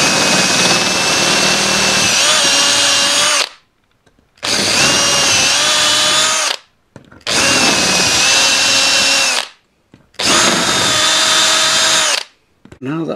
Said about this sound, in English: now I'm going around the outside holes with a 5mm drill,